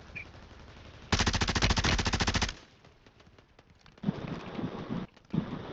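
A rapid, loud burst of automatic gunfire rattles for about a second and a half in a Warzone 3 Plunder match, followed by softer scattered shots, clicks and game noise.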